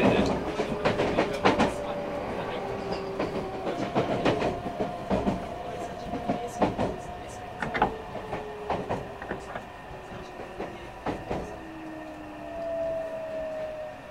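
Inside a Meitetsu 2300 series limited express train on the Nagoya Main Line between Gifu and Nagoya: rhythmic clickety-clack of wheels over rail joints, motor whine rising and falling, and a steady rumble, with faint voices at times.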